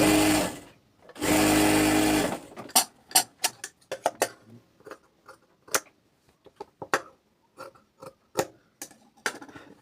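A sewing machine stitches a salwar seam in two sustained loud whirring bursts, followed by a series of short stop-start clicks and brief stitching taps.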